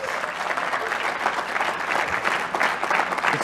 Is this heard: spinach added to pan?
no